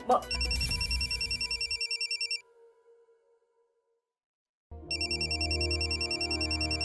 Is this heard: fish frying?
no